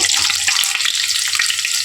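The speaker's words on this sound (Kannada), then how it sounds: "ಅದಕ್ಕೆ ನೀರು ಅದು ಎಣ್ಣೆಯಲ್ಲಿ ಬಿಟ್ಟು ಅದಕ್ಕೋಸ್ಕರ ಸೌಂಡ್ ಬರ್ತಾ ಇದೆ ನೋಡಿ" Hot oil frying aloo pakoras sizzles and crackles loudly and continuously as water hits it, with dense popping spatter close by.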